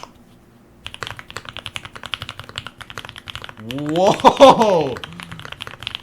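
Custom Vega mechanical keyboard with lavender switches and an aluminum plate, typed on in a steady run of close, poppy keystrokes, with a man exclaiming loudly partway through.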